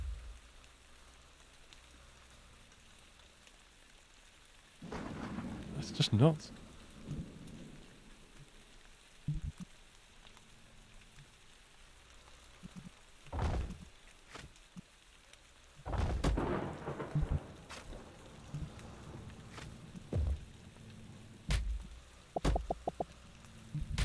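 Steady rain falls throughout a rainy scene in the Parkitect park-building game, with several loud, rumbling thunderclaps and cracks breaking in at intervals; a brief spoken remark comes near the end.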